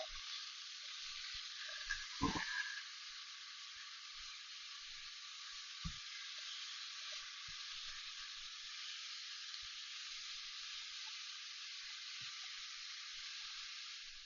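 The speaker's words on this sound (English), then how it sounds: "Your pork and your beef mince are going to go straight in that pan. A really good sizzle." Steady, soft sizzling of pork and beef mince frying in a pan, with a few faint clinks and scrapes of stirring and breaking up the mince throughout.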